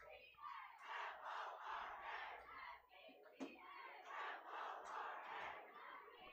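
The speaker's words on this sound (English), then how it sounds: "Oh, now we got the crowd is coming back into the game here." A high school football crowd at LaSalle-Peru versus Metamora cheers and chants in rhythmic rising waves, distant and fairly faint.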